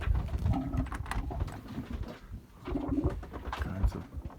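Pigeons or doves cooing among a flock of around forty birds, soft repeated coos close by over steady outdoor background noise, with no talking.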